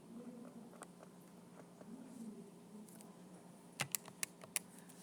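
Buttons on a blue calculator are pressed as a run of four or five quick, sharp clicks near the end of a quiet stretch, close up and fairly faint, with no speech over them.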